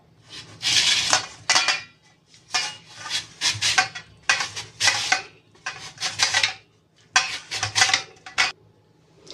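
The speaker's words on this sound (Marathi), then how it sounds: "आता आपण हा ह्याच्याने हा किस करून घेऊया" Potatoes are grated on a large grater, giving close, rhythmic rasping strokes in repeated bursts separated by short pauses, with no talking.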